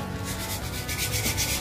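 Scissors being sharpened with wet sandpaper, a steady close abrasive rubbing with rhythmic back-and-forth strokes, continuous and loud with no talk over it.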